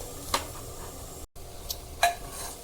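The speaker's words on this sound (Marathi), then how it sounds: "फोडणीमध्ये परतायचे आहेत" Soaked basmati rice is sautéed in a hot spice tempering inside a pressure cooker for green pea rice, with a few brief scraping stirs and soft sizzling heard up close, with no talk.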